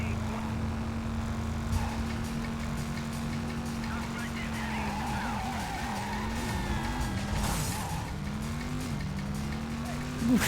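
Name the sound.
car driving and skidding in video game Driv3r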